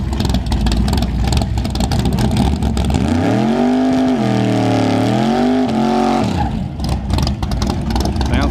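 A Mustang drag racing at Newport Raceway, its loud engine roaring steadily and rising in pitch through a hard pull at close range, with crowd noise and engine sounds filling the background throughout.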